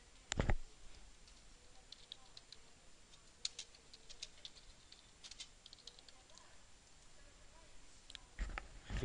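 Computer mouse clicking an encrypt button in cloud data-sharing software: a few sharp, close clicks at the start and end, with faint ticking in between over quiet room noise.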